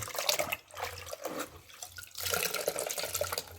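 Water splashes and trickles as a dirty cleaning cloth is rinsed during car detailing of a Honda EG and EK sedan, with steady running and sloshing sounds that rise and fall, close and moderately loud.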